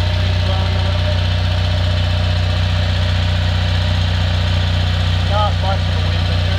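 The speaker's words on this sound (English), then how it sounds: "standing right by the generator" A portable generator running in a garage, a loud steady low engine drone with mechanical vibration throughout, heard close up, with a brief voice-like sound near the end.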